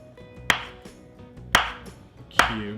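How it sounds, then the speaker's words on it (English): A knife cubing butter for homemade biscuits, with three sharp, distinct chops spaced about a second apart against a quiet background. "cube the butter."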